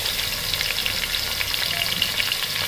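Finely chopped onions, two large ones, fry in hot oil with a steady, bright crackling sizzle, close and continuous, with no voices over it.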